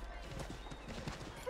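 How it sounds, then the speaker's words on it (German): Soft, rhythmic horse hoofbeats clip-clop steadily at low volume in the video game Assassin's Creed 3 Remastered, with a faint background hum. "Hier haben wir ein Pferd."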